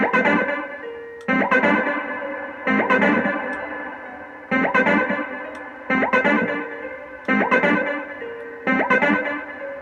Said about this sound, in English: add the filter reverb.